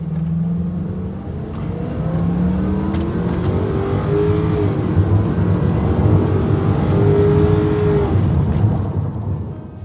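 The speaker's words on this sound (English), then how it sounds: "Here's how 0 to 60 miles per hour feels in our 2002 Tbird." A 2002 Ford Thunderbird V8 accelerates hard from a standstill to 60 mph, its steady engine note climbing in pitch and dropping briefly at each upshift before rising again, heard close and loud with no talking.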